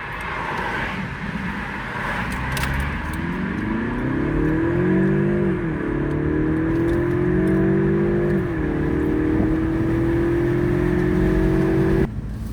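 A car with an inline four-cylinder engine drives steadily, its engine note droning and climbing through two gear changes with brief dips, loud and close throughout with no talk.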